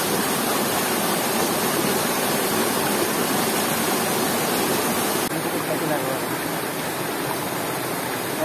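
Loud, dense rush of the Chantayac River in Pastaza, Ecuador, flowing steadily and close, a constant broadband roar with no pauses.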